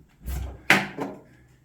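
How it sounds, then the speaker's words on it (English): A Kings 85L upright fridge door swings open after a hinge swap, giving a sharp click and thud with a softer follow-up knock, close and fairly loud, with no talk. "So here's the test. Does the door open?"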